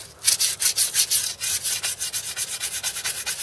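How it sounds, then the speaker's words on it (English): Fine sandpaper rubbed by hand on a crusty car part during a wheel bearing job, making a near series of brisk, regular scratchy strokes with no talk. "A little bit of sandpaper here,"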